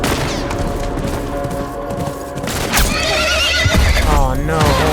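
A horse neighs and whinnies loudly in The Last of Us, rising into a shrill cry in the final seconds amid heavy gunfire, booms and shouting during a hostile encounter.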